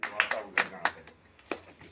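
A few scattered handclaps from an audience at an outdoor environmental tree-planting event in Farrukhabad, short sharp bursts that come irregularly and thin out rather than build into sustained applause.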